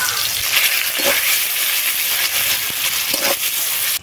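Garu fish frying in oil in a wok, a loud continuous close sizzle and hiss with a few brief crackles, steady throughout before cutting off at the end.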